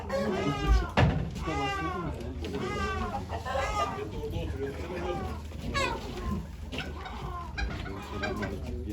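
Chickens cluck and squawk repeatedly amid a noisy crowd of voices talking in the background at a chicken auction in Ankara, moderately distant.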